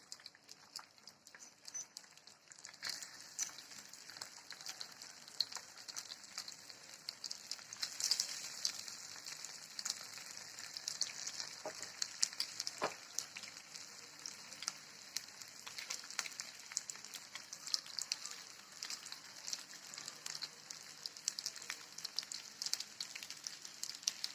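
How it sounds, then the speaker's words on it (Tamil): Folded dosas frying in hot oil, a faint, steady crackling sizzle with small irregular pops and a few soft clinks, continuing without voices. "நம்ம மடித்து வச்ச தோசையெல்லாம் ஒன்று ஒன்றா எடுத்து ஃப்ரை பண்ணிக்கலாம்"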